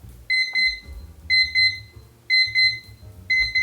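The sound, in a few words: kitchen timer beeping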